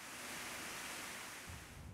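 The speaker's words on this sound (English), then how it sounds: "If you can listen around, you hear the nice tranquilness of the water." Steady, even rush of falling water at Tranquility Park in downtown Houston, a soft continuous wash with no voices.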